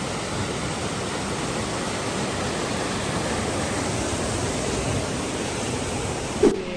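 Steady broadband rushing of a garden waterfall in Georgia fills the whole stretch, constant and even, with a brief knock near the end.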